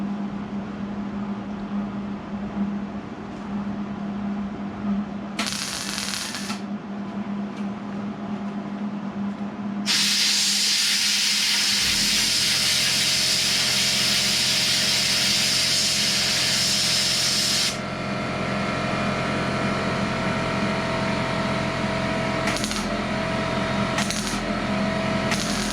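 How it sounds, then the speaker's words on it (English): An air blower run off a small pancake air compressor while panel work is done on a Buick Skylark, with bursts of loud hissing air, a long sustained blast and a steady motor hum underneath. "I got an air blower. I only have a little pancake compressor."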